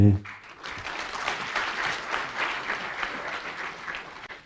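A wedding crowd applauds steadily, a thick wash of many hands clapping at moderate volume, with a brief voice at the very start and a faint murmur of talk underneath.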